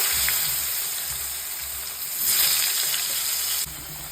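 Potato pieces frying in hot oil in a kadai, a steady close sizzle and hiss with a slight swell in the middle and a sudden drop near the end, no voices.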